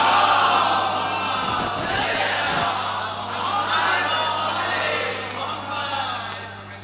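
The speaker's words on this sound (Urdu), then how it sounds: "ایک صلوات اور پڑھ لیں محمد و آل" A large congregation at a majlis in a mosque and imambargah recites salawat together in loud unison, the massed voices swelling and falling over several seconds before tapering off.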